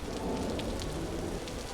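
Steady rain pours on a dark, moonless night in a video game, a dense continuous hiss with some patter and no talking throughout.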